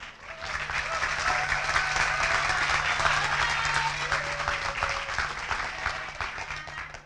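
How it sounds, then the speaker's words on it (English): Audience applause at a nursing school pinning ceremony, a dense, steady wash of clapping from a crowd that swells and holds for about seven seconds before easing slightly, with faint voices mixed in. "So round of applause for these people."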